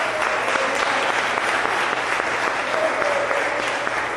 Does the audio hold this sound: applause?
yes